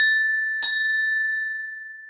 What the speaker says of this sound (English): Then Grandpa Pig tells Peppa to ring the bell.